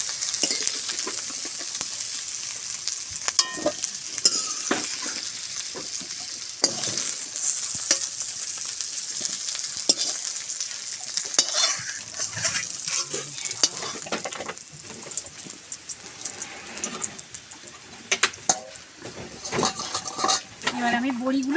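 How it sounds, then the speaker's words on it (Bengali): Lentil dumplings (bori) fry in hot oil in a pan, a steady sizzle continuing throughout while a utensil repeatedly scrapes and clinks against the pan as they are stirred, close and fairly loud. "এবার আমি বড়িগুলো ভেজে নেব।"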